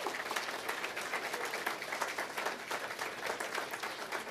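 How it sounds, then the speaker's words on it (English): Audience applause at the close of a debate event, steady crowd clapping at a faint, distant level with no voices over it. "if we could give them a round of applause"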